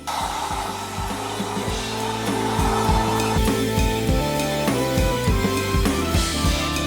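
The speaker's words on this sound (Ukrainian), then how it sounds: "Це можна зробити на вулиці або просто висушити феном." A steady, loud hair dryer blows continuously as it dries paper, with occasional rubbing and knocking sounds on top and no talking.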